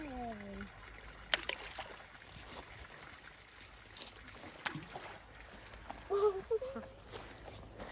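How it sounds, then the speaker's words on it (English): Rocks are tossed into water during an outdoor walk, giving a few scattered splashes and plops over a low ambient background, with a person's voice briefly heard. "just throwing rocks in the water"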